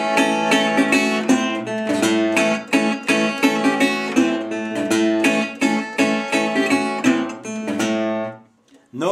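Fingerpicked acoustic Delta blues guitar rhythm, a brisk steady stream of plucked chords and bass notes played alone up close, ending with a brief pause.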